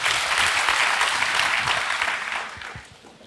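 A church congregation claps together in sustained applause during a Sunday service, dense and steady before tapering off toward the end.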